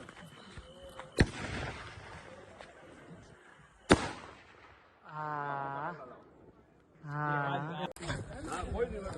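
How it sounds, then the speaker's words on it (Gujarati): Three sharp firecracker bangs burst a few seconds apart outdoors at a village wedding, with people shouting between the blasts. "ફટાકડા નાખો ને ચલો"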